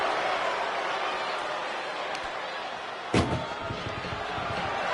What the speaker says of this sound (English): Tossed into the ambulance. Shut the door and this match is over.